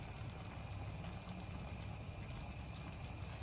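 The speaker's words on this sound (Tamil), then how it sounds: "ஒரு முக்கியமான ஒரு இன்கிரிடியன்ட் வந்து இதல வினிகர் வினிகர் போடணும்" Vinegar poured from a small spoon into a simmering brinjal masala gravy, a soft steady trickling wash that runs continuously at low level with no talk.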